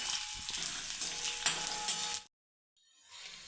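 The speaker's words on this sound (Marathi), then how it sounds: "हा मसाला दोन मिनटं फक्त आपल्याला भाजून घ्यायचा आहे एकदम जास्त काळपट नाही करायचा थोडंसं भाजून घेऊ फक्त मिडियम गॅसवर भाजायचं आहे" Ginger-garlic masala roasts in a pan over a medium gas flame with a steady, close sizzle and a few stirring scrapes, then cuts off abruptly into silence before a fainter sizzle returns.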